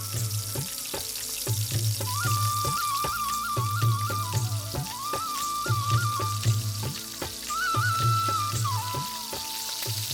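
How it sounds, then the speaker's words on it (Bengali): Slit green chillies and chopped onions fry in hot oil in a pot with a soft, continuous sizzle, partly masked by rhythmic background music with a melody over it. "ফালি করে কাটা কাঁচামরিচ আর পেঁয়াজ কুচিগুলো ছেড়ে দেয়া হলো গরম তেলে।"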